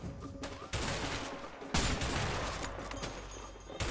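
Loud bursts of gunfire from the video game A Way Out, with sharp onsets and dense sustained shooting that swells twice and carries on throughout.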